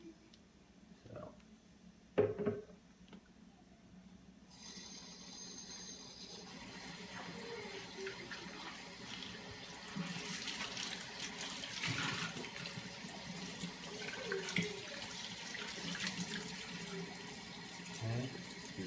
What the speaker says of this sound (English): We're going to just rinse everything off anyways.